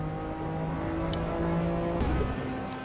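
An Audi R8 LMS Ultra GT3 race car engine in the Assetto Corsa racing game, a steady loud engine drone holding a tone, with a sharp shift or rev change partway through.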